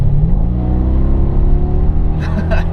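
Mercedes E55 AMG driven in drive from about 40 mph at full throttle, the engine roaring loud and steady throughout with a deep sustained drone and rising whine, heard from inside the car.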